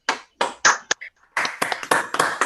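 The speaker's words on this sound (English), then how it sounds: "feel free to unmute and join together in applause" A handful of online meeting participants clap through unmuted microphones, producing sparse, uneven bursts of individual claps with brief silent gaps, close and dry rather than a blended crowd roar.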